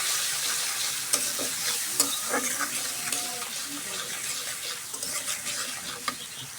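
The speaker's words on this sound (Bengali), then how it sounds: "ভাজা তেলের মধ্যে হলুদের গুঁড়া, লবণের গুঁড়া দিয়ে দিব। সুন্দর করে ভাজে নিব।" Turmeric and salt powder frying in hot oil in a home kitchen, a steady close sizzle with sharp crackles and the clink of a spoon stirring through it.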